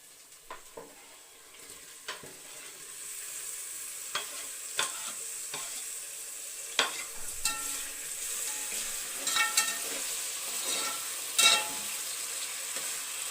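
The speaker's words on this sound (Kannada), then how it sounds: "ಇವಾಗ ಈರುಳ್ಳಿ ಎಲ್ಲ ಬೇಯ್ತಾ ಇದೆ." Onions sizzling in a pan for chicken biryani, a steady soft fry with occasional sharp clicks and scrapes as they are stirred.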